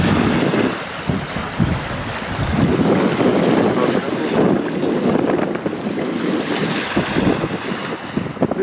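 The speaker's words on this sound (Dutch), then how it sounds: "Dit is wel wild water." Rough, choppy water churns at a lock in Hellevoetsluis, with strong wind buffeting the microphone in loud continuous roaring gusts and splashing surf.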